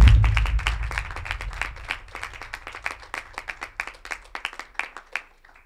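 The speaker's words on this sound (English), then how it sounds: "So Jessica, if you can have a round of applause for her, come on up." Audience at a fall campus address breaks into applause: a loud burst of many hands that thins into scattered, distinct claps and then fades out near the end.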